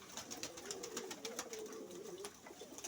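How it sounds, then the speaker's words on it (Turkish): Soft, low cooing from pigeons on a rooftop loft in Istanbul, repeated gently through the short stretch with faint outdoor ambience and no voices. "Burada da uçurduğumuz kuşlarımız var."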